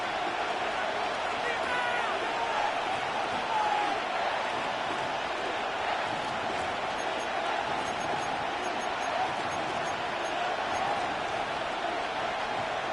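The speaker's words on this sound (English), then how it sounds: "The crowd cranking it up another notch before third and long." A football stadium crowd roaring steadily before third and long, a dense, sustained wall of cheering that holds loud and even, with a commentator's voice running over it.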